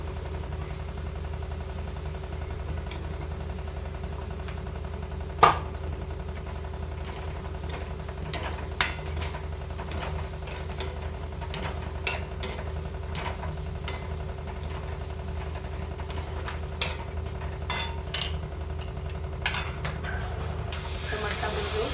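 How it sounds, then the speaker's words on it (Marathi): A ground spice paste goes into sautéed onions in a pan for a dried fish curry, giving a steady sizzling hiss with scattered small pops and ticks throughout, and a voice faintly present. "आता आपण जे वाटण बनवून घेतले ते टाकून घेऊ।"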